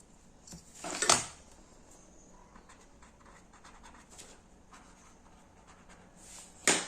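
Pen writing a scale on a diagram, soft scratchy strokes in short bursts with a couple of louder taps or clicks, all quiet and close.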